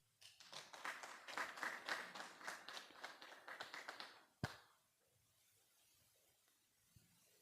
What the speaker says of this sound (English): Another clap as she comes up.